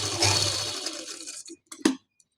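Sewing machine stitching full pleats on a kurti, a brief close whirring run of the motor that slows and stops, followed by a couple of small clicks.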